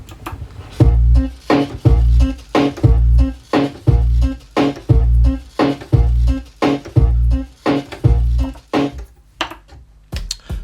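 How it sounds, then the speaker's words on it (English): A turntable beat-juggling loop where records are switched every three sounds, giving an offbeat triplet pattern: loud, punchy drum hits repeat in a steady cycle with brief gaps, no voices. "If I break this rule and switch records every 3 sounds, I end up with an offbeat loop that sounds like this."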